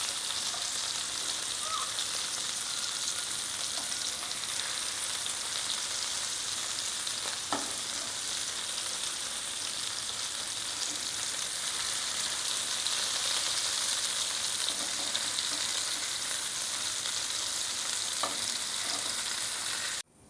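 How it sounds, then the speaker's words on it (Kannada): Prawns sizzle steadily in a hot pan for a long stretch, a constant bright hiss with a few faint stirring clicks, no talking. "ಈಗ ಇದನ್ನು ಎರಡೂ ಸೈಡ್ ಚೆನ್ನಾಗಿ ಫ್ರೈ ಮಾಡ್ಕೊಳ್ಬೇಕು"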